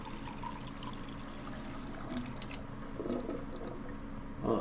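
Water pouring in Life is Strange 2, a soft continuous stream running steadily at low level with faint clinks toward the end and no speech.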